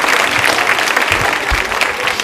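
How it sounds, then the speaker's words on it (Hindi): Audience applause at a women's polytechnic college quiz show anniversary event, steady dense clapping from a crowd filling the whole stretch without pause, loud and close. "तालियां जोरों से बजाइए"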